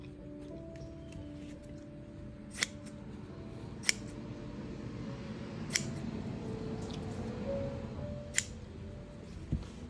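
Sharpened pinking shears snip through two layers of fabric at once, giving a handful of crisp, separate cuts spaced a second or two apart over a quiet, humming room.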